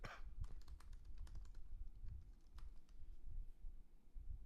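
Rapid keyboard typing as a search is entered on a computer, a steady run of close, crisp key clicks with a low room rumble underneath and no talking.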